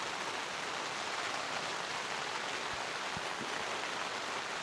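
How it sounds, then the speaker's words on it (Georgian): Rain falls steadily at a campsite in Racha, a soft even hiss with a few faint drips and taps near the end, no talk. "ეგრევე გაწვიმდა."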